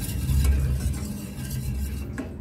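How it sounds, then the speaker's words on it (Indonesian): A milk bun mixture is stirred in a pot before the heat is turned on: a steady, close scraping and sloshing stir with no talking. "Ini tips ya teman-teman, aduk rata sebelum apinya dinyalakan."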